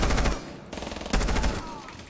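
Bursts of rapid automatic gunfire from an operator's weapon in the tactical shooter Rainbow Six Siege, with loud clattering volleys broken by short pauses.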